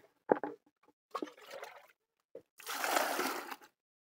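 Water from a well pours and splashes in a few separate bursts while doing laundry, ending with a longer, louder gush, with brief quiet gaps between them.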